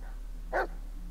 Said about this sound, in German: Du bist ein braver Hund.